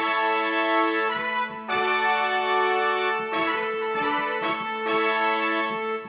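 Orchestral brass patch played on a keyboard in MainStage 3, sounding out as bright sustained chords in several held phrases with short breaks between them, heard alone without any talking.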